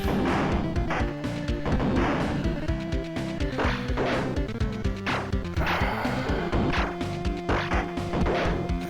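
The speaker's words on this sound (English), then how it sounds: "And again, crashing into fucking everything." Spaceship crashes in the Commodore Amiga game Galaxy Force come as a rapid series of loud smashing impacts layered over steady, chiming synth music that plays throughout.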